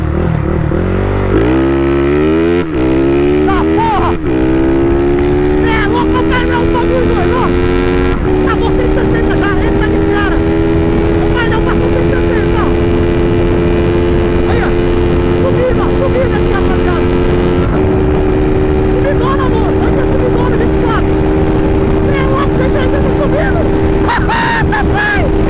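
A Twister motorcycle with an oversized 79mm piston accelerates loudly uphill, its engine note rising through the revs in steady climbs and holding a strained high drone, roaring close throughout.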